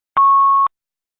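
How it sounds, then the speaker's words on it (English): A single clean electronic beep in an online meeting call, steady and fairly loud for about half a second, then silence. "Is that somebody else beeping or me?"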